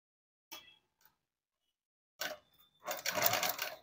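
A sewing machine stitches a girls' school uniform coat in short, quiet bursts: a brief whir, a long pause, then a longer, louder run of stitching near the end.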